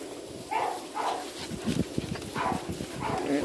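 Several puppies at a pet care play day yip and bark in short repeated bursts, close by, mixed with small whimpers.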